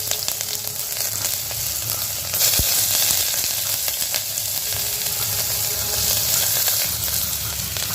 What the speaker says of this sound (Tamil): இப்போ வெங்காயத்தை சேர்த்து நல்லா வதக்கிக்கலாம்.